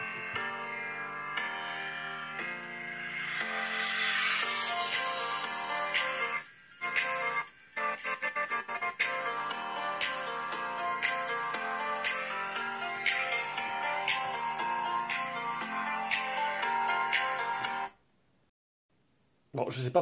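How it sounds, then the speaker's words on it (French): Music plays through a Vivo X50 smartphone's small, thin-sounding speaker, with rhythmic percussive hits and melody, briefly dropping out twice before cutting to silence near the end. "On va maintenant écouter un peu ce que ça donne la musique tout simplement."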